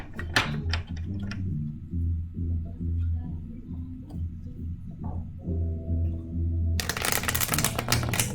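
Rapid papery riffling of tarot cards being shuffled in bursts, with low hum and shuffling sounds continuing throughout, ending in a louder clattering flurry.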